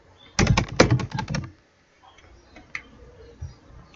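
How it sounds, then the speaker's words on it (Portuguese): Fingers tap quickly on a computer keyboard in a short close burst of clicks, followed by a few sparse keystrokes and quiet room sound. "Tentar digitar aqui por cima."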